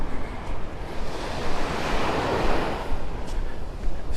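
Ocean surf washes onto Pelican Bay Beach in North Naples, Florida, a steady broad rush of waves with gentle swells and some wind buffeting the microphone, close and continuous.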